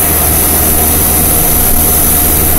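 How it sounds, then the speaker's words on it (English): A dying 1990 Tempstar 2.5-ton heat pump with a scroll compressor runs in cool mode, giving a loud, steady, rough droning hum with broad hiss and no pauses, heard close up. "Compressor sounds like hell."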